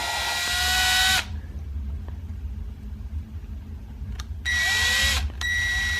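A power drill lapping a Toyota 2JZ engine valve with cutting compound whines loudly for about a second, falls silent leaving a low rumble, then spins up again for another short burst.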